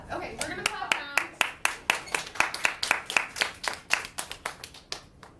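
A small group clapping hands in a quick, fairly regular rhythm of sharp, distinct claps, close and crisp, with some voices and laughter mixed in at the start.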